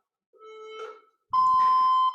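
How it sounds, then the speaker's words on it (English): Workout interval timer beeping: a quieter, lower beep first, then after a short gap a louder, higher, sustained beep held for nearly a second, clear and alone. "Here comes the timer"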